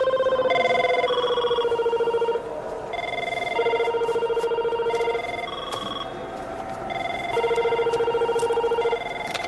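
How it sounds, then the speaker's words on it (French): A telephone rings in repeated electronic tonal bursts, a melodic ringtone pattern cycling loudly with brief pauses between. "Tu ne réponds plus au téléphone?"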